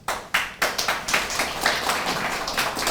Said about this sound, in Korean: 감회와 찬사의 박수를 보내드립니다